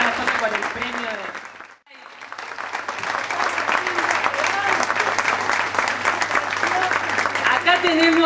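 Audience applause at an awards tribute in Córdoba: clapping under a speaker's voice, a short lull, then sustained, fairly loud clapping with some cheering voices.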